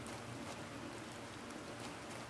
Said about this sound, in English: That's what we are hearing right now, guys. It's raining.